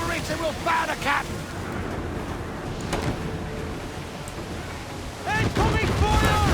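Ship cannon fire in Assassin's Creed IV Black Flag, a volley of booming blasts with crackling debris under shouted crew voices, continuing as a dense rumble before another burst near the end.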